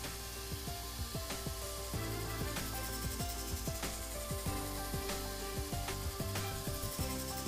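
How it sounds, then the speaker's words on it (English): Knife held in a sharpening jig and drawn across the finer abrasive belts of a Robert Sorby ProEdge belt sharpener, giving a steady motor hum with repeated rasping strokes at a fairly even rhythm, close and continuous, with no voices. "Having sharpened using the two finer belts, the knife is now razor sharp."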